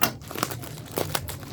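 Plastic packaging for a pair of Wiresto earbuds crinkles and rustles up close as it is opened, a steady busy crackle with a few sharper crunches.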